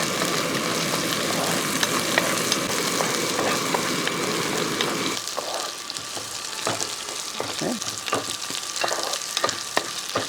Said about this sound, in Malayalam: ചെറിയ ഉള്ളിയൊക്കെ ഇതിൻ്റെ അകത്ത് കിടന്ന് നല്ലപോലെ ഒന്ന് വഴറ്റിയെടുക്കണം